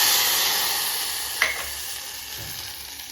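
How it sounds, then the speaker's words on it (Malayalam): Hot curry-leaf tempering poured into ripe mango curry (mambazha pulissery) gives a steady, soft sizzle and hiss with one brief splashy burst partway through, no voices. "നമുക്കിത് നമ്മുടെ മാമ്പഴ പുളിശ്ശേരിയിലോട്ട് ഒഴിച്ചു കൊടുക്കാം"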